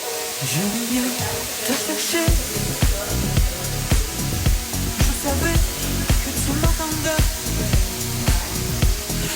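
A Dyson Airwrap Co-anda 2x hair styler blows a steady, loud rush of air, with a rhythmic thumping beat running over it throughout.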